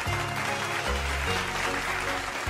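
Applause from a gathered audience at a dance performance, a dense burst of clapping heard close and loud throughout, mixed with background music.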